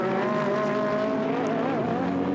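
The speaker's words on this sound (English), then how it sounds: "the Ferrari closes up quite a lot compared to what it was when it came on to the start-finish straight" GT race cars, a Ferrari and a Mercedes, racing at Monza, with a sustained high-revving engine whine that holds steady then dips and wavers briefly, loud and continuous with no talk.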